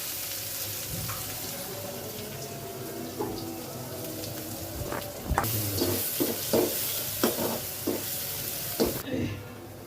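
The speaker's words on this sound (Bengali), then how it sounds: "এবার শাকের তেল দিয়ে দিচ্ছি। দিয়ে দিলাম রসুন, দিয়ে দিচ্ছি পেঁয়াজ।" Garlic and onion frying in greens oil in a home kitchen, a steady sizzle with scraping stirs and spoon knocks, a run of sharp clatters in the second half, and a brief running tap near the end.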